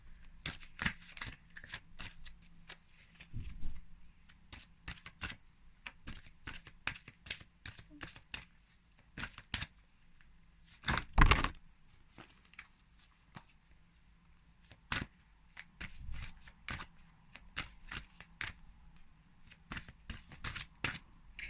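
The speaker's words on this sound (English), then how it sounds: "So we'll finish with some last cards of the oracle." A deck of oracle cards is shuffled in repeated crisp riffling bursts, close and fairly quiet, with soft speech faintly around it.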